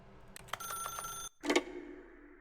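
A telephone ringing in the video game The Stanley Parable, an electronic bell trilling in a short burst, then cut off by a brief silence before a louder clattering ring that fades out.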